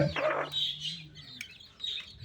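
Small chicks peep and cheep in quick, high bursts close by, with soft clucking underneath and a few scattered chirps.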